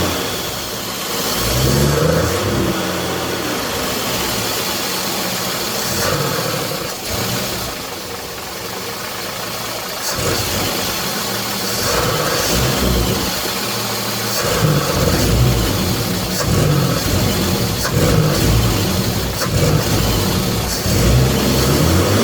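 A car engine idles low after distributor work, a steady, loud mid-range rumble with an uneven, slightly lumpy rhythm and occasional knocking surges that continues throughout without talk.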